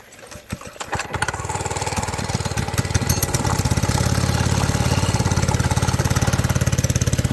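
A Monkey Bike's small motorcycle engine sputters and catches, then settles into a steady, close, rhythmic putter that carries to the end.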